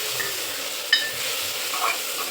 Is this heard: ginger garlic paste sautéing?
yes